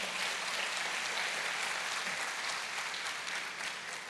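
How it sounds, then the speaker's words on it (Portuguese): A church congregation applauds after a sermon in Portuguese, with dense, even clapping from many people that stays quiet and distant throughout. "Dê uma forte salva de palmas."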